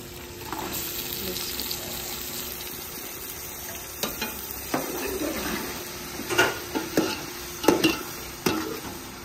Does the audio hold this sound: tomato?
yes